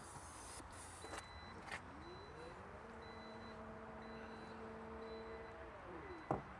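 Electric tailgate on a Zeekr 7X closing: a steady motor whir rises, holds for several seconds and winds down, then a soft latch thunk, heard fairly close in a quiet setting.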